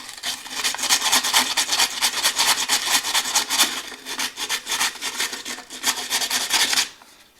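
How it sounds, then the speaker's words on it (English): Steady, rhythmic abrasive rubbing as a cured JB Weld epoxy repair on a wet bar sink is smoothed off, with continuous close strokes that stop abruptly near the end. "One thing I want to do is smooth off the JB Weld."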